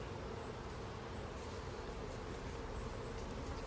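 Honeybees swarm and buzz at an open hive with a lid being fitted, a dense, steady drone of many insects close by that fills the whole stretch without pause.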